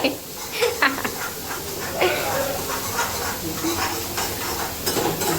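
Steady hissing sizzle of spices tempering in hot oil, fairly loud and close, with faint clinks and stirring scrapes throughout.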